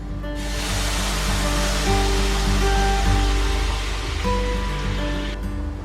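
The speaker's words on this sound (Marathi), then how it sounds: "आता हे गरम पाणी आपण त्या रव्यामध्ये घालूया।" Hot water is poured into semolina mixed with grated fresh coconut and cardamom powder for khantoli, giving a steady, full rushing and sizzling wash that lasts several seconds at close range, with no talking.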